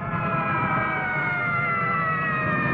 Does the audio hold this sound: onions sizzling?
no